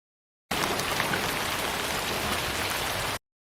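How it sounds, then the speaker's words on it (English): Light rain falls as a steady, even hiss that fades in sharply, holds for under three seconds at constant loudness, and then cuts off abruptly. "And a light rain comes."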